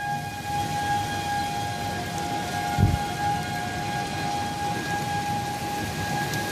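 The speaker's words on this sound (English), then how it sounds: "Can be rain wrapped." Steady rain and a low thunder rumble at a tornado warning in Indianapolis, with a sustained siren tone running continuously through the background and a brief louder thump near the middle.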